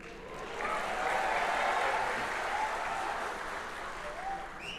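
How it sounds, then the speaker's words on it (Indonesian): Audience applause at a regional party working meeting, a steady wash of clapping from a crowd at moderate distance that swells and then gently fades. "Tepuk tangan."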